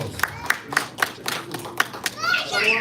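A small audience claps in sharp, evenly spaced beats that blend into looser applause at the end, with children's voices mixed in nearby.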